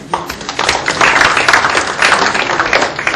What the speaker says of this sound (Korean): 이 모든 분께 따뜻한 격려와 위로의 박수를 한번 부탁드립니다.